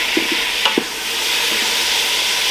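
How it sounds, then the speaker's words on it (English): Lamb tagine gets stirred in a Ninja Foodi Max pressure cooker, a few scraping spoon knocks against the pot over a steady loud sizzle that continues throughout. "so I'll give it a quick stir around."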